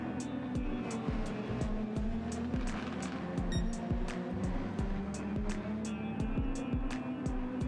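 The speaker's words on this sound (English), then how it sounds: "The car snapped away and he spun yet again" A race car spinning out on a damp curb in Gran Turismo 7, the engine droning steadily with repeated sharp revving bursts and tyre noise throughout, fairly loud with no talk.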